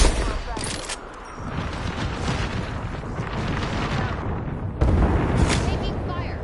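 Heavy gunfire in a shooter video game, bursts of rapid shots and booming impacts filling the whole stretch, loud and dense, with a sharp new volley near the end.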